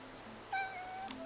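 A single soft cat meow from the video game Infinity Nikki, brief and fairly faint over a quiet ambient background.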